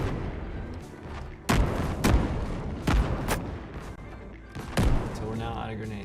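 Grenade blasts in a video game under development, several sharp booms spaced a second or so apart over a steady bed of game noise, with someone talking through them.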